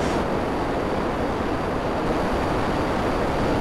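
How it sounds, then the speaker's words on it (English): Airplane flying in the GTA 5 video game, a steady loud broadband roar of engine and wind with no pauses, close and continuous, with no voices over it. "Whose plane is falling from the sky?"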